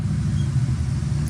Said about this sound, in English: You may hear the vent running right now,